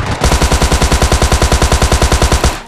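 Rapid automatic gunfire in PUBG Lite: a loud, close, evenly spaced burst of about twenty shots over two seconds, with no talking.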